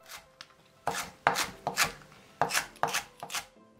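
A knife chops the green tops of a green onion (daepa) into half-centimetre pieces on a cutting board for a whelk soup. The close chopping comes in quick bursts of sharp taps, several strokes each, with short pauses in between and no talking.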